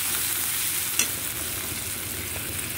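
Chopped onion stir-fries in a pan with spices for egg chilli, giving a loud, constant sizzle with a single quick scrape of the spatula partway through.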